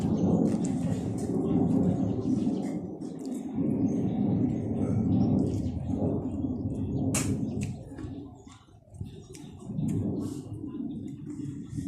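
Thunder rolls overhead in a long, deep, continuous rumble that swells and fades over about twelve seconds, with light outdoor ambience and a few faint bird calls.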